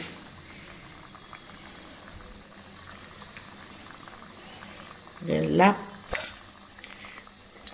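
Heart-shaped semolina and sugar biscuits frying in oil over a low flame give a soft, steady sizzle throughout, with a short, louder voice-like burst just past the middle.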